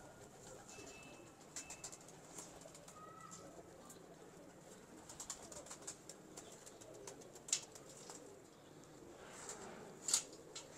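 Pigeons cooing softly at a distance, with a few light flutters and scattered chirps against a quiet background.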